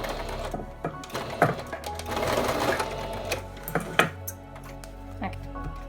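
A home sewing machine back-stitching through the cotton fabric of a face mask, close up, with a whirring run of needle clatter, short bursts and stops, and light handling clicks.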